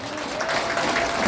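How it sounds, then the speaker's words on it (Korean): Applause from an audience at a presidential candidate's campaign speech and meeting, a steady wash of clapping lasting just over a second and swelling slightly toward the end. "박수 한번 하겠습니다."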